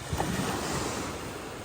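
Ocean surf washes onto a beach in Dubai, a loud, continuous roar of breaking waves mixed with wind buffeting the microphone.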